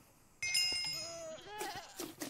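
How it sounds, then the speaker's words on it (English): A goat in the video game Minecraft gives a loud, wavering bleat that jumps in abruptly, followed by a second rising cry with some shrill noisy bursts, close and unaccompanied by speech. "Come on, screaming goat."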